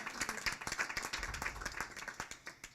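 An audience at a graduation ceremony in Jersey City breaks into a round of dense, steady clapping, mid-distance and continuous for the whole stretch.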